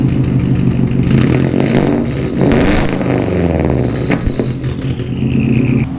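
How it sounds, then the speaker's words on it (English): A Subaru EJ205 engine runs with an obnoxiously loud exhaust, a steady throaty drone with rising revs and clattery bursts, close and continuous throughout. "The exhaust is absolutely obnoxious"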